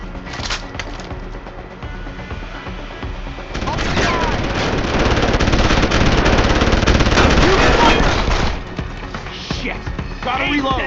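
Rapid automatic gunfire in Deus Ex: Human Revolution in Detroit, dense bursts and sustained loud volleys that swell in the middle, with impacts and splintering debris and voices shouting amid the firefight.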